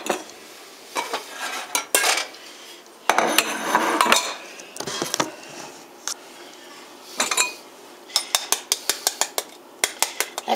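Metal utensils clink and scrape against a bowl in repeated bursts while an extra egg yolk goes into a homemade Hollandaise sauce, close and fairly loud, ending in a run of quick sharp taps.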